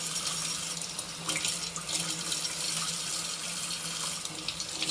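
Cool tap water runs steadily into a sink while chilies are rinsed, a continuous close splashing stream with no talking.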